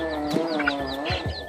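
Native chicken clucking in a rural Filipino provincial setting, short soft clucks repeated several times over steady background hum, close by, with no talk.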